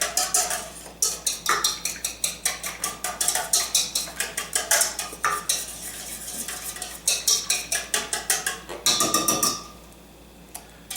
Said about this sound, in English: And we whisk that all up together.